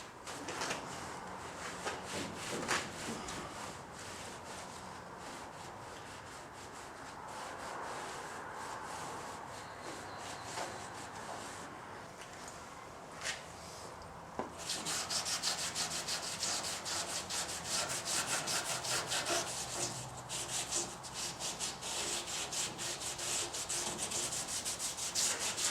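Cloth rubbing solvent over a Ford ZF Fairlane panel to lift old hood-lining glue, a steady scrubbing swish that grows louder and brisker partway through, with no talk.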